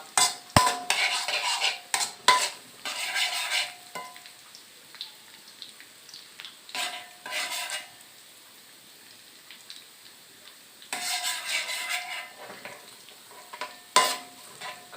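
Garlic frying in a pan until golden for Thai stir-fried soy sauce noodles with marinated pork, with bursts of spatula stirring and scraping against the pan over a soft, steady sizzle.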